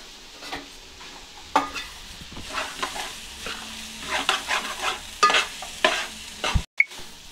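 Biryani is stirred in a pan on low heat with close, soft scraping strokes in an irregular rhythm over a gentle sizzle, and a few sharper knocks near the end.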